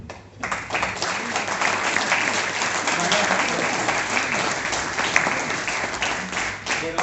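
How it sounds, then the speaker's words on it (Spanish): A crowd applauds steadily for about seven seconds, a dense, even wash of clapping that swells quickly at the start and holds at a constant level throughout. "Un aplauso"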